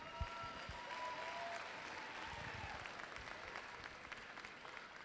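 A crowd at a robotics championship event gives the referees a round of applause, steady clapping that rolls on evenly at moderate distance and slowly fades.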